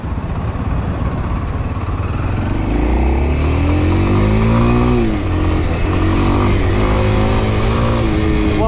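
A used motorcycle on a test ride, its engine loud and close, with steady harmonic drone, rising and falling revs as it pulls through gears, no voices.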